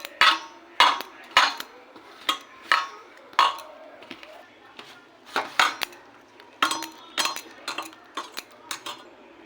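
A spoon clinks sharply and repeatedly against a bowl while gram flour, cornflour, salt, turmeric, chilli powder and nigella seeds are mixed with water into batter, giving close, irregular bursts of taps with short pauses between them.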